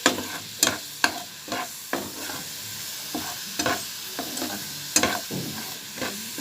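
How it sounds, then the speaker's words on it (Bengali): Tilapia fish curry with garam masala being stirred as it fries, loud rhythmic spatula scrapes and knocks against the pan over a constant sizzle, close with no speech. "এবার একটু গরম মশলা দিয়ে একটু নেড়ে চেড়ে নেব"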